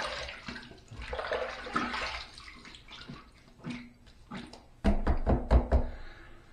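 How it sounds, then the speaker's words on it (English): Running water splashes during a wet shave rinse with shave soap, a soft flowing wash broken by knocks and taps of a razor against a sink, ending in a louder burst of splashing. "let's rinse."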